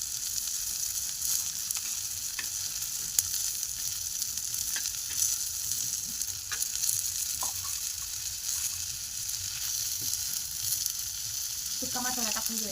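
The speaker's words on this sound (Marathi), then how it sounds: "कांदा आपला खूप छान भाजलाय," Onions frying in a pan for matar paneer: a continuous close sizzle with faint scrapes and clicks of stirring, and a brief voice right at the end.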